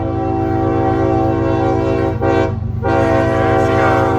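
CSX L235 freight train speeding through North Carolina countryside, its horn sounding steadily and loudly close by with a continuous low rumble beneath, the blast dipping briefly before resuming.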